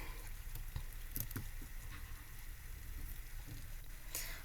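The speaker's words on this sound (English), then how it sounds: "this rain is bugging me big time" Steady rain falls in a Roblox Bloxburg game world, a constant soft patter with scattered small ticks and splashes, fairly quiet and continuous with no talking.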